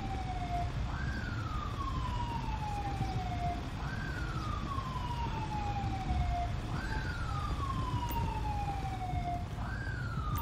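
Wailing ambulance siren in the GTA 5 video game, a steady rising-and-falling sweep repeating about every three seconds, loud and continuous over a low rumble of traffic or engine noise, with no voices.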